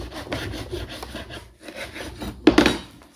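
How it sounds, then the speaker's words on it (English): Salt is rubbed into meat by hand: scratchy, rasping strokes, fairly close and steady, with a louder scrape near the end. "Take the salt. Take the meat. Rub it in."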